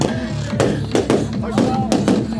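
Sharp, irregular pops and bangs from the exhaust of a Skoda Fabia race car at a racing event, several loud cracks in quick succession against a rumbling engine.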